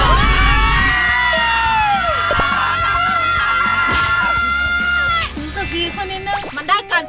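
Several people shouting at full strength together to release stress, a loud sustained chorus of screams and yells that breaks into shorter cries and laughter toward the end.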